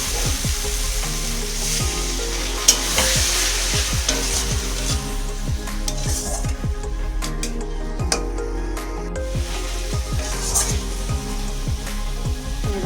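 Potato curry frying in a pan while being stirred and scraped, with repeated rhythmic spatula strokes over a constant loud sizzle and a faint low hum underneath.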